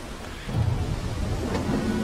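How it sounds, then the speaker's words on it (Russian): A thunderstorm in the video game The Sinking City: a low thunder rumble swells over steady rain, loud and close for a couple of seconds, with no voices. "Опять какая-то буря, либо что-то такое."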